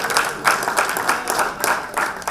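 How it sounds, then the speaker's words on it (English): Audience at a community meeting about an entertainment and sports arena gives a round of applause, moderate clapping with rhythmic surges, fairly close and without talk. "Can we give Courtney a round of applause?"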